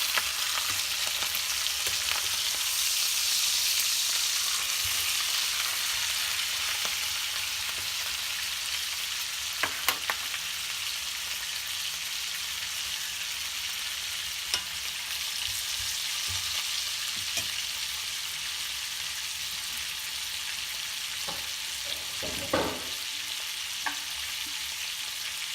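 Steak sizzling in a pan during a reverse sear, a steady, crackling hiss with scattered sharper pops and an occasional clink, continuous and fairly close throughout.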